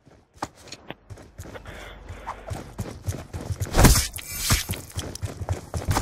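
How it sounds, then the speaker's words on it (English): Hooves of a galloping horse in the video game Black Ops 2 clop in an irregular, fairly close run of thuds that grows louder toward the middle, with no speech. "Horse!"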